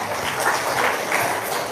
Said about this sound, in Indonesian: Sip, tepuk tangan dulu dong